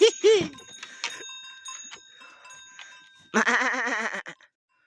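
Loud, wavering goat bleats up close from a goat that has just given birth to twin kids in winter, one short pair at the start and a longer drawn-out cry near the end, with a faint bell ringing between.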